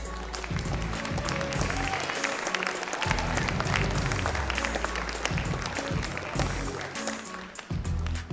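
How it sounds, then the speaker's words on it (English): Sustained audience applause for graduating student athletes at a university athletic awards event, dense continuous clapping with crowd noise and low rumbling underneath, lasting throughout. "Please give all of our graduating student athletes a round of applause."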